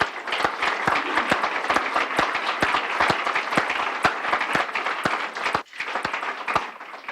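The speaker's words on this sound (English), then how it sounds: "let's say one more applause to Reston's 50 years." An audience at an annual members' meeting claps for a community's 50th anniversary, with sharp individual hand claps standing out over a steady crowd applause that briefly dips near the end before continuing.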